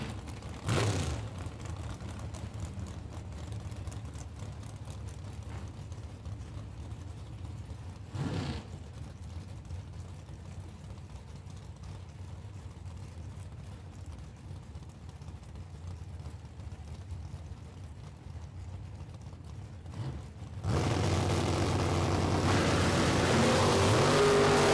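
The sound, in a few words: drag race: Oldsmobile 442 and Chevy Camaro racing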